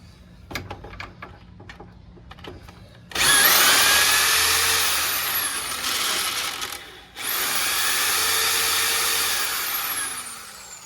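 A power tool spins out the air suspension bolt on a Honda GL1500 Goldwing, starting with a few light clicks and taps, then a loud whirring spin-down in two long bursts separated by a brief break.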